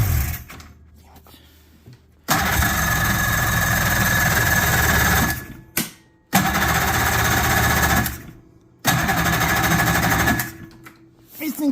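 A 1996 Polaris XLT snowmobile two-stroke engine fires and runs in loud, buzzy bursts, stalling and restarting several times, with brief quiet gaps between attempts and voices faintly present.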